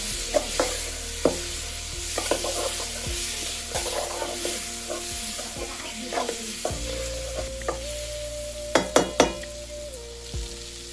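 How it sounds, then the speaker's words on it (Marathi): Chopped mangoes stirred into a hot pot for a traditional village-style mango raita; a steady sizzle with repeated scraping stirs and a few sharp utensil clacks against the pot, close and continuous. "लगेच असं चांगलं मिक्स करून घ्यायचं."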